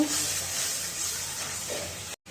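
Cumin, coriander and Kashmiri chili powder sautéing in a pan: a steady, close hiss of frying that cuts out briefly near the end, with no speech.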